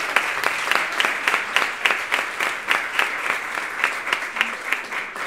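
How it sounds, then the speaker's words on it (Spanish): A graduation audience applauds the teachers with steady, many-handed clapping whose sharp individual claps stand out at a fairly regular rhythm, moderately loud and sustained throughout without speech. "Un aplauso para ellos."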